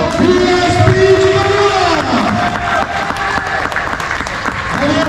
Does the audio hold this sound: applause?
yes